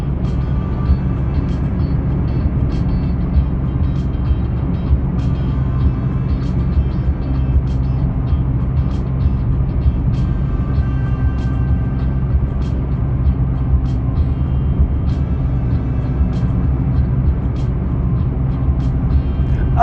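Steady, loud road drone from inside a Mitsubishi Mirage cruising on a highway at high RPM, a constant engine and tire rumble with faint ticking on top and no clear talk.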